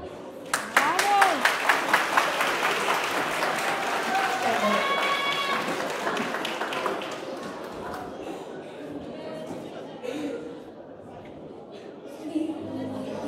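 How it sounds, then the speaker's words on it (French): An audience applauds during the evening-wear round of a beauty pageant, with steady clapping that fades gradually while crowd chatter and some talking carry on beneath. "Applaudissez-la très fort."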